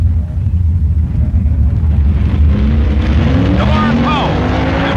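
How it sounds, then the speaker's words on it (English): Factory experimental drag racing cars at the 1965 NHRA Winternationals roar down the strip, a heavy engine rumble building with rising revving tones toward the end, loud and close in an old film recording. "Only 4 factory experimentals are left as George DeLorean races Len Richter."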